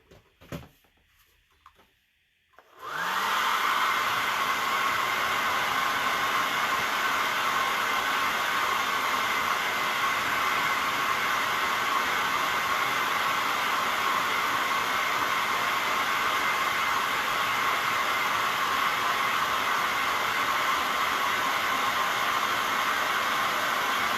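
A hair dryer blows continuously at close range to dry paint on a handmade elf belly ornament, starting abruptly after a brief quiet moment with a few soft clicks and then holding a steady, loud, even roar.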